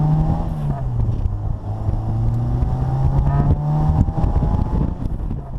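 A 116 hp five-speed Bugeye Sprite sports car accelerates hard from 0 to 60 mph, its engine note climbing steadily in pitch toward about 6,000 rpm, loud and continuous with road and wind noise beneath it.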